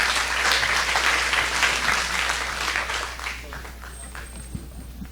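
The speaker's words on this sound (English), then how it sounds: "Let's give him a round of applause." Audience at a business school event applauds for an opening speaker, a full burst of clapping that gradually thins and fades, ending with a few scattered claps and faint room noise.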